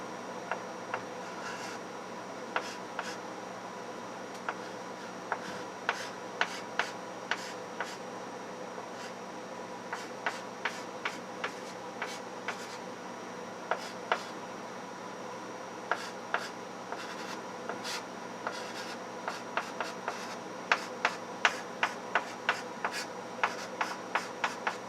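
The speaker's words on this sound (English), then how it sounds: "So I'm just going to write this down." Pen or pencil writing out math notes on paper, a steady stream of short scratchy strokes in irregular bursts, close and fairly quiet over a constant low background hum, with no talking.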